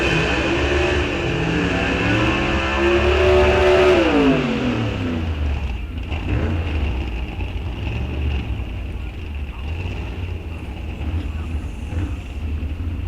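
A 1958 Corvette and a Willys launch down the drag strip at Rock Falls Raceway, loud engines revving hard and rising in pitch for several seconds before fading into a steady distant roar with wind buffeting.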